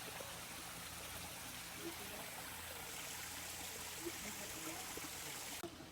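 A waterfall in a forest-like exhibit with fish tanks, heard as a steady, broad rush of flowing water that holds evenly throughout, with a faint murmur of people in the background.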